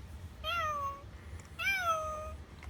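FurReal Friends Bootsie interactive toy kitten gives two clear electronic meows, each a drawn-out, falling mew about a second long, separated by a short pause over faint background hiss.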